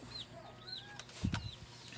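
Chickens cluck faintly around a rural provincial rest house, with high chirping calls and a brief burst of wing flapping partway through.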